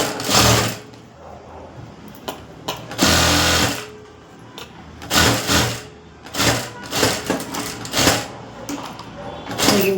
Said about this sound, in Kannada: ಇವಾಗ ನಾನು ಸೈಡ್ನ ಸ್ಟಿಚ್ ಮಾಡ್ಕೊಳ್ತೀನಿ